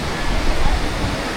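Kondeshwar waterfall in the monsoon season roars as a steady, dense rush of falling water, loud and unbroken throughout.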